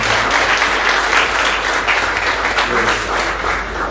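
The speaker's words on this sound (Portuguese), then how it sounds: "Começa uma salva de palmas." A church conference audience breaks into sustained applause, a dense, loud wash of clapping with voices mixed in underneath.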